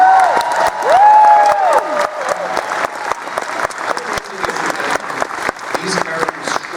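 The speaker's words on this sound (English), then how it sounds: "you're getting this applause like that for people wanting to see more" Loud, sustained applause from a room full of fans at a panel, with a few whistles and cheers rising over the dense clapping early on before it settles into steady, slightly thinning claps.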